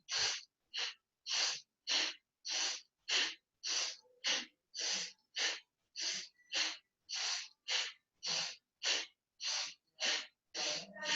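Forceful rhythmic breathing during a Kundalini yoga exercise for pregnancy: about twenty sharp, breathy exhalations in a steady, even pulse, close and clear, with no speech.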